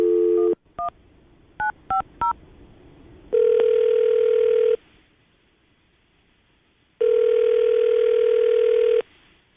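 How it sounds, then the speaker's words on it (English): A telephone call being placed: a short burst of touch-tone dialing beeps, then two long, loud ringback tones separated by quiet, clear and close with no talking. "we're going to give her a call right now, see if we can get her on the phone"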